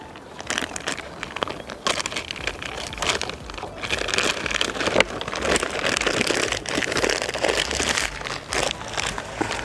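Shears snip and rustle through the stems and foliage of a Hypericum plant being trimmed for a hanging basket, giving close, crinkly crunching and crackling that comes in repeated bursts.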